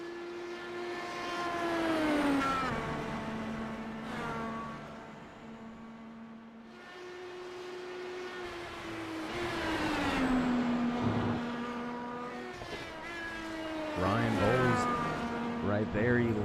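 IndyCar race cars in a racing video game drone around the track, engine tones rising and falling in long sweeps as cars pass, with a commentator talking over them.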